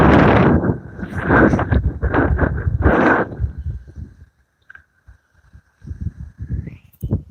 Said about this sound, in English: Man, it's windy as shit today.